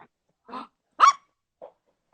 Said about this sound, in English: you hear the doggy bark?